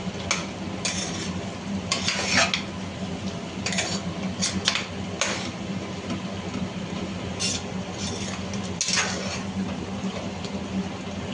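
A spoon stirs two tablespoons of chili powder into chicken curry in a pan, making intermittent scraping clinks against the metal over a faint background sizzle.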